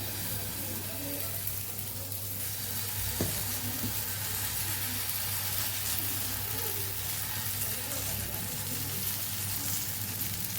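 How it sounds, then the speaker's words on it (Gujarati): Bottle gourd pudla batter cooking in ghee on a nonstick griddle over medium heat, a steady close sizzle and hiss that continues evenly throughout. "આવી રીતે નાના નાના પુડલા આપણે તૈયાર કરશું અને મીડિયમ ગેસ ઉપર આપણે એને સરસ પાકવા દેશું"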